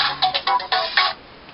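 A phone ringtone chimes in a short melodic burst of bright electronic tones, a series of pulses over about a second, fairly close and clear with no talking over it.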